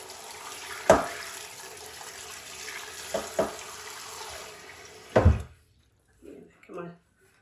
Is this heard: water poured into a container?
yes